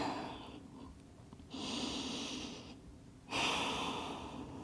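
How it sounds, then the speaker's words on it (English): Slow, easy breaths from someone resting in child's pose during a Pilates mat and dumbbell session: two long, soft airy exhalations separated by quieter pauses, close and alone. "Easeful breaths."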